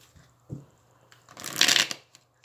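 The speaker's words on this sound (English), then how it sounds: "Oh, I'm shuffling two decks in with each other." Two decks of tarot cards shuffled together, a soft tap followed by a dense, crisp riffle of cards rising to a loud flurry and then stopping, heard close and alone.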